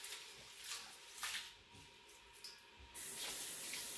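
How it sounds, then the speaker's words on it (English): Tap water runs into a bowl of rice being washed, a steady splashing trickle with brief louder gushes and a stronger, even stream near the end; no voices. "let the water run into the bowl and wash the rice with the water"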